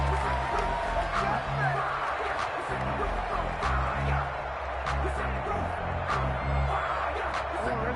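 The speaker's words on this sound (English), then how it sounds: "this crowd has certainly liked what they've seen" Stadium crowd cheering and roaring steadily throughout a football video game broadcast, a dense continuous wash of crowd noise with commentary-like voice beneath.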